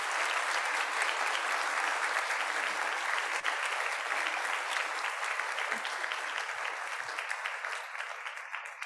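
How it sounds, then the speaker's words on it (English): Warm applause from a conference audience at an opening plenary session, a steady dense patter of many hands that holds for several seconds and slowly tapers toward the end. "So can I get a big round of applause for Amin for coming to join us?"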